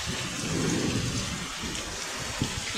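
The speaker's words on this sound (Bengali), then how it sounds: "দেখো সকালে কীরকম বৃষ্টিটা এসছে" Heavy morning rain driven by wind, a dense steady hiss of downpour with drops pattering on surfaces, loud and close throughout with no voices.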